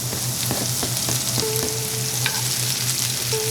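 Garlic sautéing in a pan for spaghetti marinara before basil goes in, a loud dense sizzle with a few tinny clinks and scrapes of a utensil, close up with no voices.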